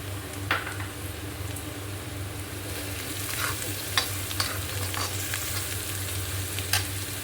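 Ginger garlic paste fries with chilies in a pan for an arbi (taro) dish: a soft, continuous sizzle with occasional scraping stirs from a spoon, fairly quiet and with no talking.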